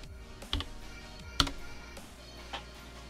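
A few sparse keystrokes and clicks on a computer keyboard at a Windows PC built into an RC semi truck, with isolated taps spaced about a second apart over a faint room hum.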